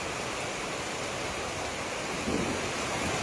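Steady heavy rain pours as a dense, even wash of noise with a low swell of distant thunder rolling in near the end, no voices present.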